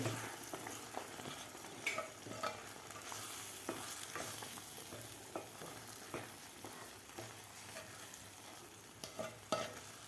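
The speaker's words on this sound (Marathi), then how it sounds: "दूध घातल्यानंतर व्यवस्थित आपल्याला मिक्स करून घ्यायचं आहे रवा दुधामध्ये" Semolina being stirred into milk in a pan for sheera, a steady scraping and stirring with soft sizzling and intermittent sharper spoon strokes against the pan throughout, no talking.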